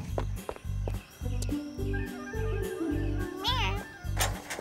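A cartoon cat gives a few short meows over a steady, rhythmic chugging beat, with a voice speaking briefly in between.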